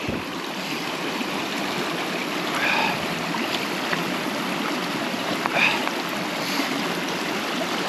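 A mountain stream on the Lycian Way in Turkey rushes and splashes loudly as hikers cross it, a close, continuous broadband wash of flowing water with faint voices and steps beneath.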